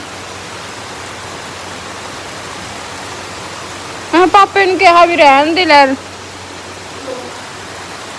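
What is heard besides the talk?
heavy rain falling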